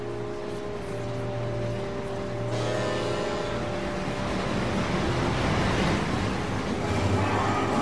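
A train in Lightning Returns: Final Fantasy XIII rumbles and hisses as it pulls into a station, the broad mechanical noise swelling steadily and then holding at a dense, constant roar.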